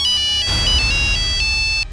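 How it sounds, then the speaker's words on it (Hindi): A mobile phone ringtone plays loud and close, a bright repeating electronic melody that rings out for about two seconds with no voices over it. "ये देखिए सर का फोन भी आ गया।"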